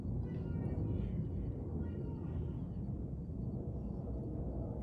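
Far-off SpaceX Falcon 9 rocket launch: a steady, low, broad rumble rolls on without a break, faint and distant, with no talk over it.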